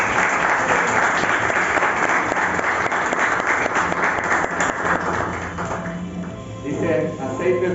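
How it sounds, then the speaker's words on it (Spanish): A church congregation breaks into loud, sustained applause, a dense wash of many hands clapping that fades after about six seconds as a voice begins speaking over the dwindling claps. "¿Cuánto le dan un aplauso a la presencia de Dios?"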